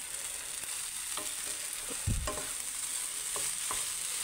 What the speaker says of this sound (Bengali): তো দেখতে পাচ্ছেন এখানে আমি নুডলস রান্না করছি